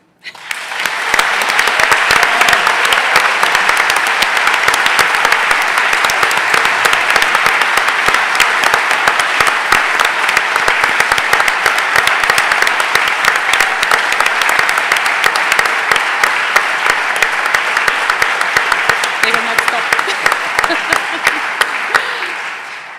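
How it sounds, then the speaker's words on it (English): Sustained applause from a large audience filling a hall at the opening ceremony of the EAS 2023 conference in Lyon, steady and dense from start to finish. "This applause now goes to you."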